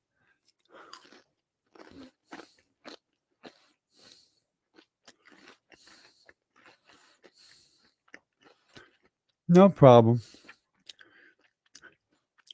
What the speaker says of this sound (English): I'm just going to sit here and munch on these Cheez-Its.